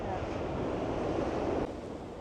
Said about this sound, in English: Big wave coming in here,